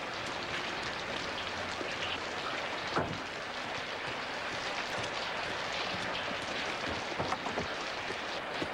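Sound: heavy rain

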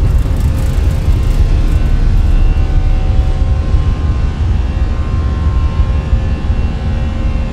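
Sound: Airbus A320 taking off in video game Microsoft Flight Simulator 2024

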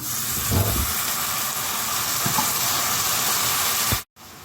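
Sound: chopped tomatoes added to hot pan

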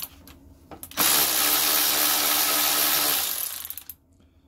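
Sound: Draper Storm Force 10.8V cordless ratchet loosening bolts

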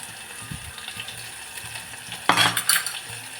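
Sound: stirring red chilli into farali kadhi

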